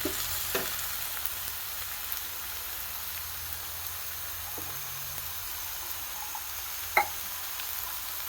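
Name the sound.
stir-frying thoran with cooked beans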